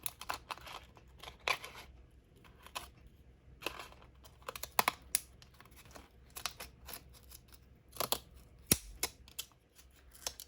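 Irregular crisp snips and clicks of scissors cutting paper bags, scattered sharp bursts over a quiet background, some louder strokes, with no voices.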